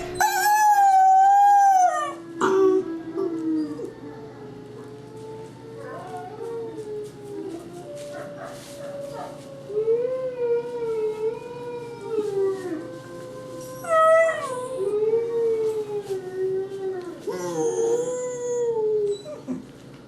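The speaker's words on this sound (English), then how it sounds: "I'll let you listen to her howl here." A dog howls in long, wavering, rising and falling tones, pausing between drawn-out cries with occasional whimpering notes.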